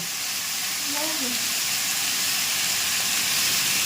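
Potatoes and onions fry in a pan with a steady, broad hiss that holds evenly throughout, with no talk over it.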